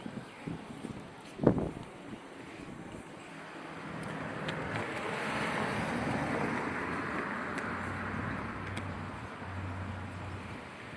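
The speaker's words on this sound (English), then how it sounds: "I know it's windy. You're going to have to bear with me." Gusty wind rumbles and buffets the microphone, swelling to a steady roar, with a sharp knock early on.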